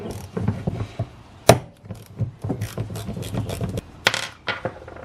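A 13 mm bolt being removed from the belt tensioner of a BMW E36 serpentine belt system, heard as quick metallic ratchet clicks, knocks and small clinks in irregular bursts, close up.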